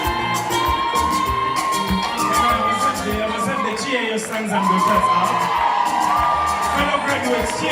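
Graduates at a Seeta University AI boot camp commissioning ceremony cheer loudly as a crowd, with whoops, high shouts and yelling layered over a steady roar, mixed with voices.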